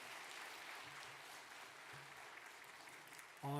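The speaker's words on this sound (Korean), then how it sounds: "인사하시고 박수로 축복하시기 바랍니다" Church congregation applauding in a blessing after a service greeting, a soft, even spread of clapping that continues throughout, distant and faint, with a brief sharp sound at the very end.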